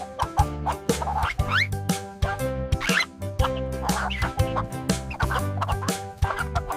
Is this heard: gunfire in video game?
no